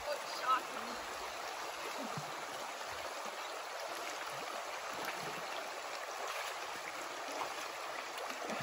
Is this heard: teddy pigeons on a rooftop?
no